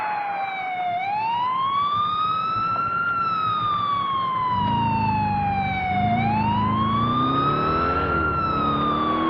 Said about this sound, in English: now we got a cop car. You can turn your sirens on and off